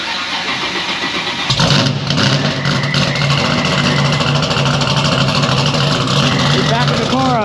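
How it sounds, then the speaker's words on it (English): A race car engine starts and settles into a loud, rough idle close by, rumbling steadily as the car backs up, with people talking over it. "Backing the car up so we can unload Prenup out."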